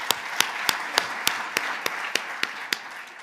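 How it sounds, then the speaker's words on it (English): An audience at an Israel solidarity event in Great Neck claps in unison, sharp, evenly spaced beats about three per second, a steady rhythmic clapping heard over a soft room murmur. "So let's give you a round of applause."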